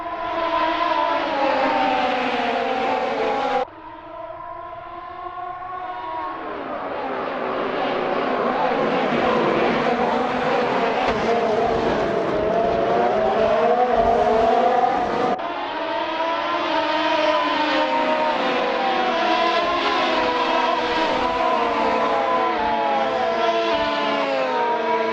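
Formula 1 race cars in a racing video game roar past with loud, high-pitched engine whine that climbs and shifts pitch through gear changes, sustained for the whole stretch with no talking.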